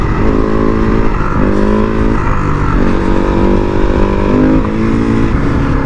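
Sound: Supermoto motorcycle riding

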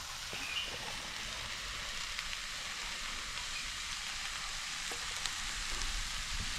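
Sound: mushrooms frying in a pan

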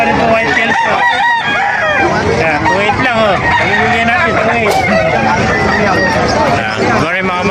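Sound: roosters crowing

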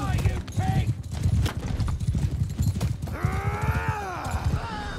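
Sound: horse hooves clip-clopping in Mount & Blade II Bannerlord video game

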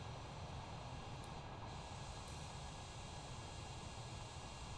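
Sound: airliner engines at full power during takeoff roll, flight simulator video game

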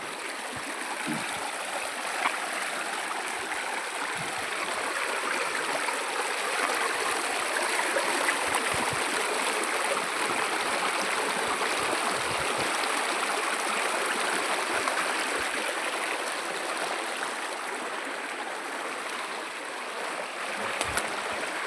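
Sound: stream of water flowing toward waterfall in Palakonda hills, Kadapa

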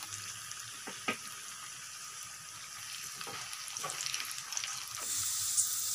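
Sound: cashews and raisins frying in oil

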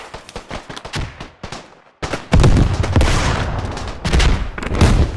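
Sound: machine gun firing in video game Beyond The Wire

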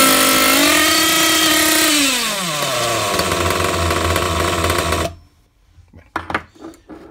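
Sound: Hyper 7 Pro nitro engine restarted and running

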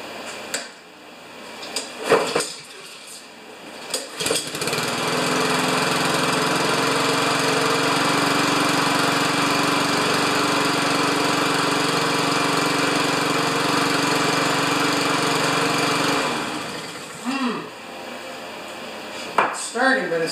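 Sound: Craftsman lawn mower Honda engine running rough, sticky choke

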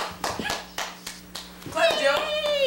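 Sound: baby clapping hands

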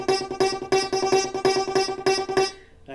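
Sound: muffled sound of inside piano strings

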